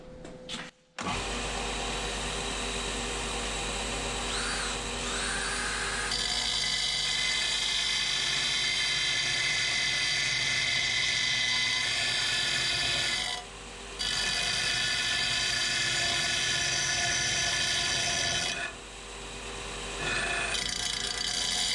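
A milling machine cuts metal off a Toyota Starlet 4E-FE IACV delete plate, a steady loud grinding whine running continuously with two brief dips where the cut pauses.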